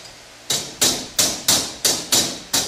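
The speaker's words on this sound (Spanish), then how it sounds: "Con el martillo." Seven sharp, evenly spaced hammer taps on a metal tube for a handcrafted door arch, each a bright close strike with a brief ringing decay, in a steady rhythm.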